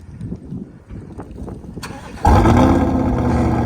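A modded 2020 C8 Corvette fires up: quiet mechanical clicks and faint noise, then a sudden loud starter catch and engine roar that settles into a steady, close, deep idle rumble.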